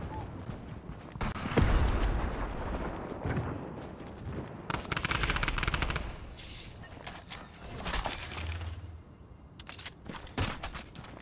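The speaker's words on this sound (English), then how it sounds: "Somebody shooting over here." Bursts of gunfire echo through a Fortnite match, scattered shots and rapid volleys at varying distance mixed with in-game movement and clatter, with voices faintly underneath.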